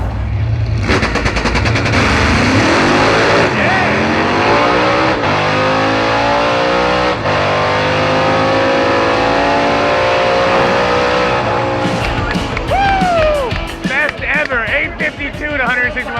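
A drag race car launches at full throttle at a Hot Rod Drag Week event at BMP among hundreds of competitors, its engine roaring loud and sustained as it accelerates down the strip, with shifts and crackling pops near the end.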